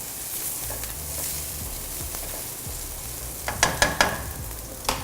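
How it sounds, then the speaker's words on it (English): Garlic frying in a thin coat of olive oil in a pan, a steady close sizzle with a few sharp utensil clicks toward the end. "add my garlic and get that a little golden"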